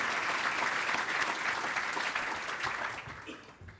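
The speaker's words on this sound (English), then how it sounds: "Let's give our veterans a round of applause." An audience at a city address applauds veterans, a full round of clapping at moderate distance that holds steady, then thins and fades toward the end.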